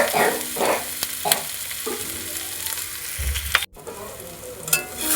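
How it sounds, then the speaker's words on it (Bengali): Spices and fish sautéing in hot oil for a Bengali fish curry, a steady frying sizzle with intermittent stirring scrapes and clinks of a utensil against the pan, close and alone without talk. "এবারে সমস্ত কিছু ভালোভাবে কষিয়ে নেব।"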